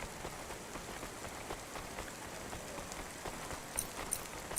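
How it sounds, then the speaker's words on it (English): Steady rain pours down in the cyberpunk city of the game Cloudpunk, a dense even hiss of drops on surfaces with a few sharper ticks near the end, no voices. "Don't let all the rain get you down."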